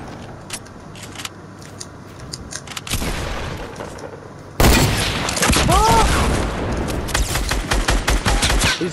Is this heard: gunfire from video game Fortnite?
yes